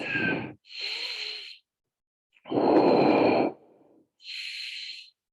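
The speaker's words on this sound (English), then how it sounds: "Let's do 3 more breaths." Deep, close breaths during a yogalates flow come as four distinct airy inhales and exhales, each lasting about a second, separated by short silences and not covered by talk.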